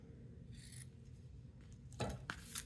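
Poor-quality scissors trimming paper for a craft project: quiet, close rasping snips, a brief cut early on and a sharper double snip near the end, over low background hiss.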